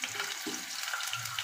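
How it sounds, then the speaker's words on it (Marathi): Potatoes shallow frying in oil for dum aloo, a steady soft crackle and sizzle running through the whole short stretch, fairly quiet and close, with faint stirring or clinks and no talk. "शालो फ्राय करून घ्यायचे।"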